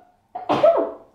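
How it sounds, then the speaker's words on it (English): Close, loud sneeze from one person, a short intake and then a strong burst that tails off, with no talking. "I have to sneeze first."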